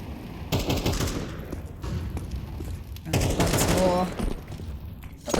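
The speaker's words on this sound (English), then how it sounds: "Couple of bullets exchanged." Rapid gunfire bursts trade back and forth in a Counter-Strike match on the Vertigo map, with loud clustered rifle shots in two main volleys and brief pauses between, under occasional commentary.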